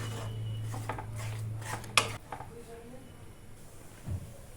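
Milk stirred into pitha batter in a pan, soft scraping and a few metallic clinks of a spoon against the pan, with a quiet hum and a brief low voice.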